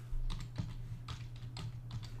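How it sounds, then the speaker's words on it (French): Computer keyboard keys clicking in a quick, soft sequence of several taps, faint and close over a steady low hum, with no voices. "Et touche entrée du clavier."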